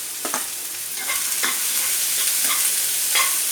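Onions and cashews frying in a pan for potato kurma, a loud continuous sizzle with a handful of spatula strokes scraping and stirring at uneven intervals, close up with no talking.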